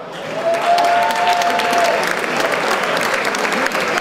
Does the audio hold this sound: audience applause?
yes